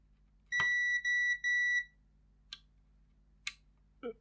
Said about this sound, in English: It's beeping for a bit and then not.